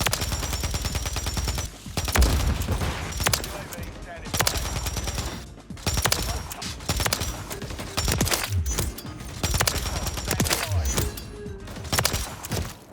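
Automatic gunfire from the video game Call of Duty: Modern Warfare 3, with rapid sustained bursts broken by brief pauses, loud and close, plus thuds and impacts and a voice talking over the action.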